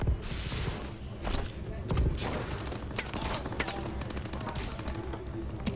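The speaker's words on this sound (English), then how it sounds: "Neck and vanity with the Thermal LMG." Rapid bursts of Thermal LMG machine-gun fire in a Call of Duty: Advanced Warfare 4v4 tournament match, crackling steadily alongside footsteps, thuds and other gunfire, with a commentator talking throughout.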